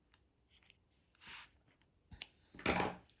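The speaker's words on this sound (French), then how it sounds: "et je coupe le fil." Scissors snip crochet yarn close to the microphone with a few quiet, separate cuts and rustles, then one louder final snip as the thread is cut on a beaded crochet top.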